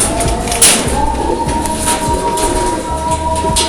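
A small fancy pigeon in a racing-pigeon loft gives soft, low cooing over a constant background rumble, with a brief sharper chirp near the start and no speech.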